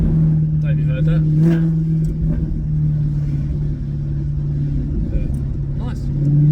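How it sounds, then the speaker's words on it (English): A Maserati GranTurismo S with sport catalytic converters and silencers idles with a deep, loud rumble close by, and a few blips give short rises in pitch. People talk over the engine. "Burble, burble, burble. Then little like burbles on it. Sound quite nice."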